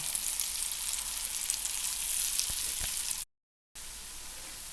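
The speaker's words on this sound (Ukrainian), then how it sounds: "Трошки олійки добавлюся." Buckwheat pancakes fry in oil in a pan, a close, steady hiss and sizzle with a couple of faint taps, briefly cutting to silence before the sizzling resumes.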